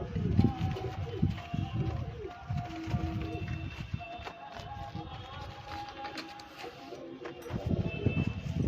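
Pigeons coo in soft, repeated low calls, close by, with shuffling and background noise throughout.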